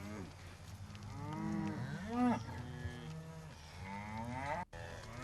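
Cattle moo repeatedly as working dogs drive them out of the trees and up into open hills, several long, drawn-out bellows from a few animals overlapping at moderate distance, with no voices.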